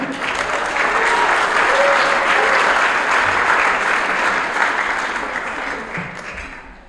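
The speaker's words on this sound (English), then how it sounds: "let's hear it once again for Dan and Keith from Lakeland Bank." Diners at a 2023 scholar-athlete awards banquet clap steadily for several seconds, a full roomful of hands at strong volume that gradually fades out toward the close.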